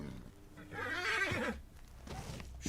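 A Shire horse in the video game Red Dead Redemption 2 whinnies in a loud, wavering neigh lasting about a second, with soft hoof clops and ambient game noise around it.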